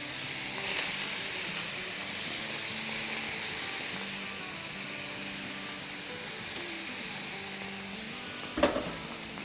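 Steady broad hiss of sauce sizzling in a very hot cast iron platter, off the heat, for a Lebanese sizzling kabab platter, continuous and fairly loud with one sharp clink near the end.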